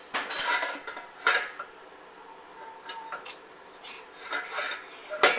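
Pots and pans clatter and clank on a porcelain fieldstone floor as a toddler handles them, in irregular bursts of metallic knocks and scrapes, close and moderately loud.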